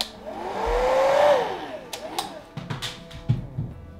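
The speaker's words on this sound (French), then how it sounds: "Je vais passer du sèche-cheveux." A hair dryer is run over a watercolour night mountain painting, its motor whine rising to a loud close roar and then winding down, followed by scattered clicks and knocks while someone speaks.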